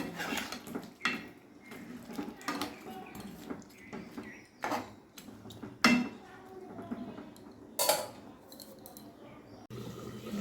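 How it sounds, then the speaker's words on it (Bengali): Marinated chicken is mixed with salt in a pan, with intermittent clinks and scrapes of a utensil against metal, wet shuffling and occasional sharper knocks, close by, with a voice speaking at times. "ভালোভাবে সব একসঙ্গে মিশিয়ে দিলাম।"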